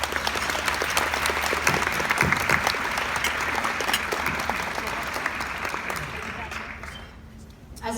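A ceremony audience applauds steadily for several seconds, a thick, even wash of many hands clapping nearby, then thins and fades out near the end.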